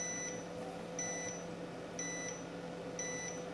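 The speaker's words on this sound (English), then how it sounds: "the machine emits a constant beeping during operation" A Cubiio laser engraver beeps during operation: four short, evenly spaced electronic tones, one per second, fairly faint over a steady hum of running machinery.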